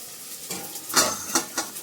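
Water hits hot pulao masala with coriander paste in a pan, bringing sharp bursts of sizzling and stirring scrapes that rise and fall over a quiet, steady fry.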